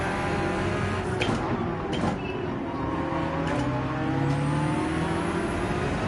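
A Porsche 911 in Gran Turismo 7 accelerates hard during an online race, its engine note climbing steadily and loud over a continuous roar, with faint tire and track noise underneath.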